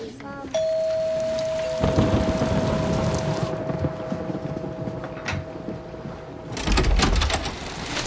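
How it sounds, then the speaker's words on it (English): Steady broadband wash of heavy rain fills the scene, with a sustained tone and some rumbling noises layered over the downpour. "glad you could make it in this downpour."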